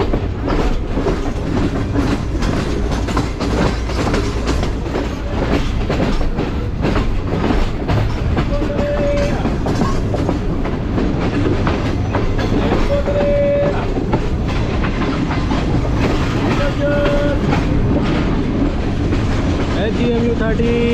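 The Karakoram Express, running from Karachi to Lahore behind a GMU 30 locomotive, rumbles along with steady clickety-clack of wheels on rail joints, a continuous loud interior drone with faint tonal hums recurring, and someone talking over it.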